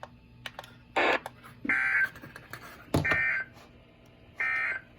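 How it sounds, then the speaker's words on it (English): A weather radio's public warning alarm system sends several short, loud electronic tone bursts in an irregular pattern over quiet background noise during a required weekly test. "Public warning alarm system."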